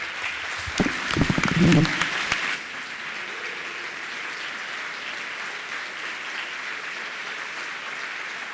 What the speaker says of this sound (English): give a big round of applause for all of these people